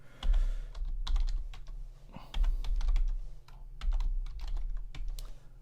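Terminal commands are typed on a computer keyboard in quick bursts of close, crisp key clicks separated by short pauses, with a low hum underneath and no speech.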